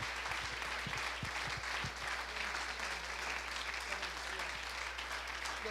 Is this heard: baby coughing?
no